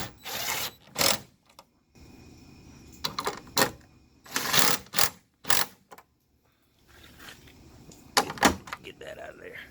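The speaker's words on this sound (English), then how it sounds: "Now we got to put our screws back in," Screws or bolts being fitted back into a 2005 Honda Odyssey tail lamp, with short bursts of clicking and ratcheting separated by quiet gaps, near and fairly faint.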